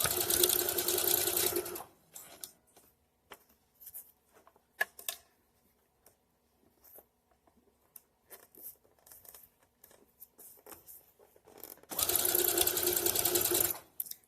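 A sewing machine stitches fabric for a DIY shorts-skirt, running in two steady whirring bursts at the start and end, with quiet fabric handling and small clicks in between.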